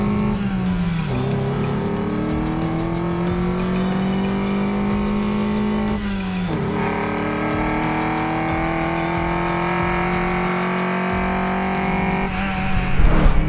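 A 1991 Toyota MR2's mid-mounted engine revs loud and close, pitch climbing through the gears with two clear shift dips, a steady continuous drone throughout.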